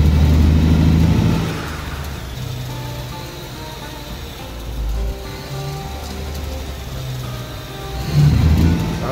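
Truck engine in the video game Alaskan Road Truckers, a steady mid-pitched drone that swells as it revs at the start and again near the end, loud and continuous with no voices.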